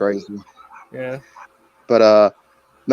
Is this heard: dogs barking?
yes